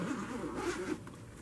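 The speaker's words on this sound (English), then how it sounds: "So let's pull the zipper on this." A zipper is drawn along a hat-box-style makeup case in one continuous rasping pull lasting about a second, close and clear with no talking.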